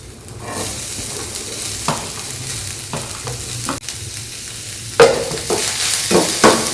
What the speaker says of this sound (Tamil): இந்த வெங்காயம் நல்லா பொன்னிறமாக வணங்குற வரைக்கும் நல்லா வணக்கி விட்டுடலாம்.